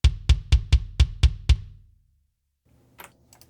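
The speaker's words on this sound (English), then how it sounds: "I'm using a DW kick drum, which sounds like this." A DW kick drum sample played through Slate Trigger 2 thumps seven times in a steady, even rhythm, each hit punchy and close with a short decay, followed by silence and a few faint soft clicks.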